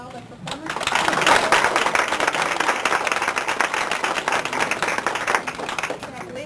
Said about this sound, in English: have a nice round of applause for all the performers